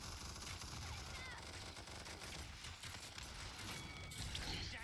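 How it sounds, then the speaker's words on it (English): Rapid machine gun fire in the video game Paladins, a dense continuous stream of shots filling the whole stretch, heavily mixed with other game sounds and some talk. "he's got a machine gun with 200 bullets. And I keep getting shot from behind."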